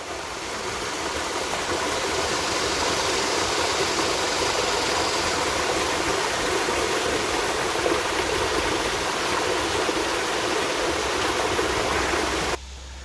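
The Dolores River flows past a riverside walkway in a steady, close, broadband rush of water that stays even throughout, then cuts off abruptly at the very end, with no voices.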